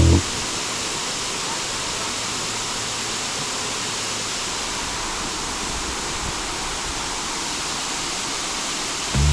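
A waterfall pours as a constant, dense rushing roar that stays loud and unbroken from start to end, with no voices heard.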